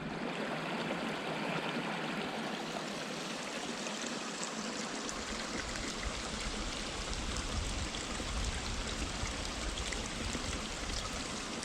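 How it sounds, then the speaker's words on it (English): A small, clear mountain stream on the Appalachian Trail flows steadily, a continuous close trickle and babble that grows fuller partway through, with no talking. "Cool little streams."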